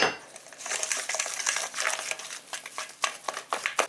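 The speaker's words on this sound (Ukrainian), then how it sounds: "Перемішуємо." Quick clinking and scraping of a spoon against a bowl while stirring curd cake batter with semolina, a busy irregular rhythm of close, bright taps with no voices.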